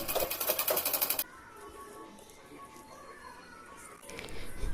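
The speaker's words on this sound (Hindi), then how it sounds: "अब हम शोल्डर स्टिच करेंगे।" A sewing machine stitching the shoulder seam of a plazo suit top, with a fast, loud rhythmic whir for about a second before it stops, leaving quiet room tone and a faint rustle.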